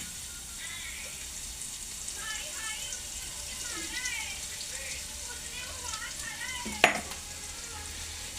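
Cumin and dried garlic fry in hot oil with a steady low sizzle, broken by a few light stirring scrapes and one sharp clink of a utensil near the end; no one speaks.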